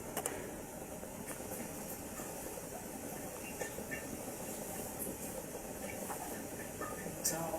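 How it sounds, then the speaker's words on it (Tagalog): A pot of ginataang tilapia, a coconut milk fish stew, boiling at a steady simmer, a constant low bubbling hiss with faint clicks throughout. "So, okay, kumukulo na siya."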